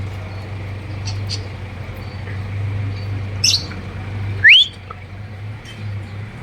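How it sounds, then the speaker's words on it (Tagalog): Two short, bright bird chirps rise sharply about a second apart, clear above a steady low hum. "Yan na yung ibon ko."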